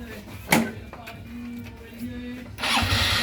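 A Honda Wave CX 110 motorcycle with an electrical fault cranks with a sharp click and some stuttering turns, then catches and starts running with a rougher, louder rumble near the end.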